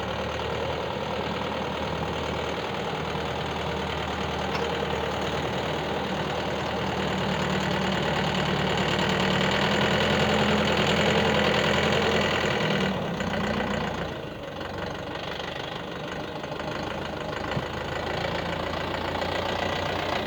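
A YTO EX 604 tractor runs in gear while working a rear blade, its engine giving a steady mid-to-low throb that rises a little, then drops back sharply around two-thirds through before settling.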